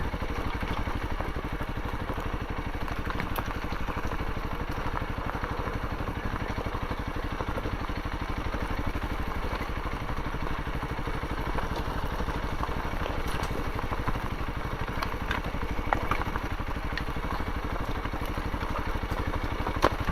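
A 2023 Honda CRF300L dual-sport motorcycle ridden slowly over a rocky trail, its engine droning steadily and unbroken throughout, joined by faint rattles and crunches from the stony ground, fairly close and constant, with no talking.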